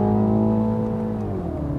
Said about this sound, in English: it sort of barks and burbles on the upshift